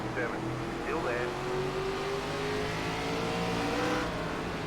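A NASCAR ARCA West Series race car in iRacing at Irwindale Inner, its engine droning and revving steadily at speed with shifting pitch, other cars audible around it, and a voice talking over it.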